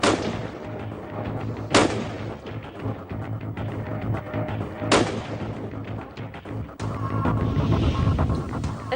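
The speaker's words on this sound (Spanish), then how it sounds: "Primero, un arma más corta, en la que el disparo se abre inmediatamente después de salir del cañón" A short firearm is fired at a watermelon, giving three sharp, loud shots spaced a few seconds apart, each with a quick booming decay over a low rumbling background.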